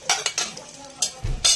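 A utensil stirs food in a pan of hot cooking oil with garlic, giving several sharp metallic scrapes and clinks with a faint sizzle beneath, close and moderately loud.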